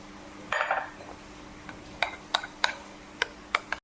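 A spoon clinks and ticks against a bowl while mixing grated coconut into banana, milk and sugar, with a series of sharp, irregular taps over a quiet background.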